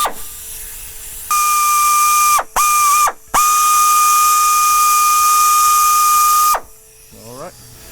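A small right angle drill whines loudly and steadily as it bores through the plastic scoop of a Banks cold air intake on a Dodge Cummins truck, stopping and restarting briefly before a long continuous run.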